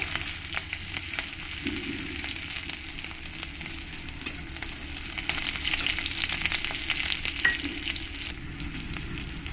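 Crushed garlic fries in oil over a lowered flame, a close, continuous crackling sizzle with faint stirring taps and no talking.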